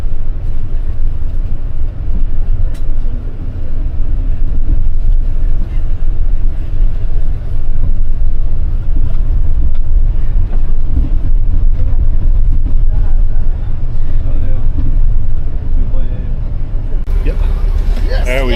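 A bus engine drones loud and steady on the road toward Lijiang, China, a constant deep rumble throughout, with people talking over it.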